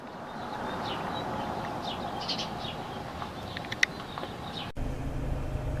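A bird in a parked pickup truck calls at its own reflection in a mirror, giving faint, scattered chirps and short calls over a low steady rumble, ending with a sudden click and a louder hum.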